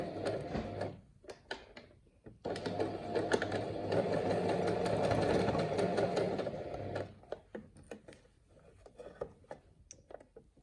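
Sewing machine top stitching a channel on a fabric produce bag, running in one steady whirring burst of several seconds, with brief stops and handling noises before and after.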